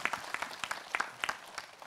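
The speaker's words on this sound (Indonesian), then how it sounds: "Tepuk tangan dong." A faint, sparse round of applause from a small audience at an Islamic religious lecture, with individual claps clearly separated in a quick, irregular patter.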